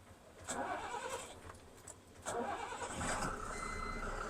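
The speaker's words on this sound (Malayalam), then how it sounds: "ഓക്കെ വണ്ടി സ്റ്റാർട്ടായിട്ടുണ്ട്" A truck engine cranks in short bursts, catches after about two seconds and settles into a steady idle, heard close and alone.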